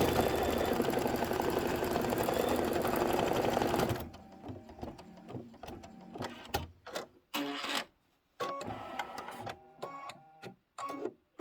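An embroidery machine stitches a tack-down line on a pillow project, running loud and dense for several seconds, then continuing in short bursts of needle stitching separated by brief pauses.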